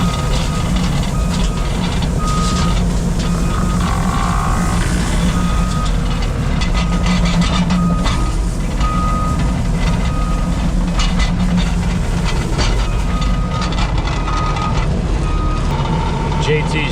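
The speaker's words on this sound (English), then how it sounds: "I'm gonna jump in this skid loader and start bringing some rock back" A skid loader hauling rock on a construction job site rumbles loudly and continuously while it moves and reverses, with repeated reversing beeps and scattered clanks. Voices can be heard over the machine noise.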